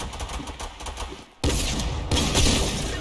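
Gunfire on the Dust 2 map recreated in Fortnite: rapid bursts of close, loud shots, a dense sustained volley that cuts in abruptly after a quieter stretch of pops and continues intensely.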